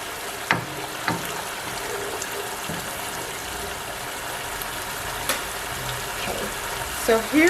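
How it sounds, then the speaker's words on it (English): Chopped tomato frying in hot oil in a pan while cooking okra soup, a low, steady sizzle broken by a few sharp pops and stirring clatters, with a faint voice near the end. "By frying the tomato a little bit in the oil, it kind of just helps you to release any water that may be in"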